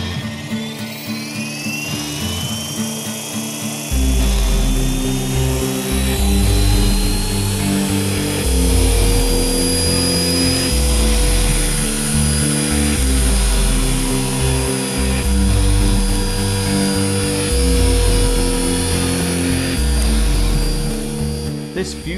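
A T-Rex 450 Pro model helicopter in a Bell Jet Ranger 206B fuselage whines nearby with a high-pitched rotor and motor buzz, pulsing and shifting in pitch as it flies, with a voice talking over it.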